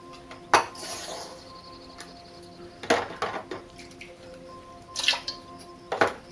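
Glass test tube being rinsed for an aquarium water test, with a few sharp clinks and drips of water against glass at irregular intervals, close and fairly quiet, no talking.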